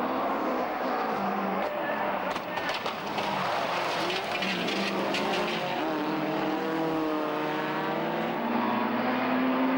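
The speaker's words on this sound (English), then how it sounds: "now's the time for some more Rallycross action" Rallycross cars race with a constant roar of engines, the pitches rising and falling as several cars pass and blend into a dense, loud wash.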